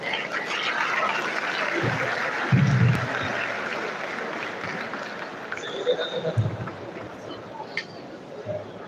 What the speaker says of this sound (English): Another round of applause for the awardees